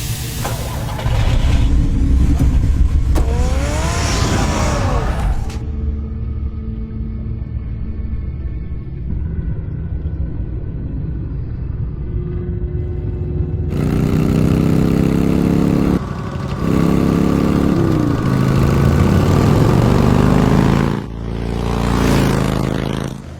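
A car engine idles and revs in the Batman Telltale video game, a low rumbling hum with rising and falling pitch sweeps. The changes in engine tone come in sections, separated by quieter stretches.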